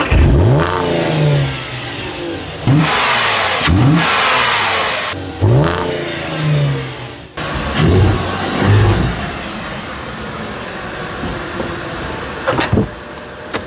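An Audi A4 with a 3.2 V6 engine and manual gearbox drives in, revving and accelerating loudly in bursts over about seven seconds, then settling to a quieter idle with a few sharp knocks near the end.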